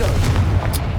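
A Confringo explosive spell blast in Hogwarts Legacy on PS5 sounds as a brief, loud, deep boom with a rolling low rumble filling the whole moment.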